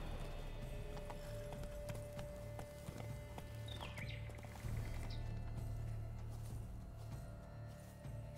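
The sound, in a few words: horse hooves clip-clop in video game The Witcher 3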